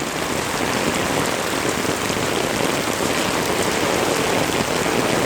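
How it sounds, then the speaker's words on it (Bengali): Heavy, dense rain pours down on a street where vehicles creep along slowly. It makes a loud, continuous hiss that fills the whole clip, with no voices. "বৃষ্টির কারণে এত ঘন বৃষ্টি হইতেছে যে বৃষ্টির কারণে সামনে কোনো কিছুই দেখা যাচ্ছে না"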